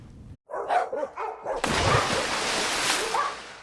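Several dogs bark at a dog ranch offering daycare in Ocala, with yips and barks overlapping into a loud, dense, continuous chorus after a brief opening of separate barks.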